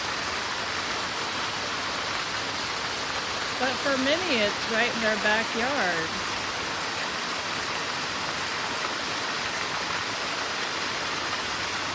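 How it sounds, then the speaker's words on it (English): A park waterfall roars in a steady, full rush of falling water that holds evenly throughout, with a voice speaking briefly over it midway. "I could spend all day at my age here, right in front of the waterfall."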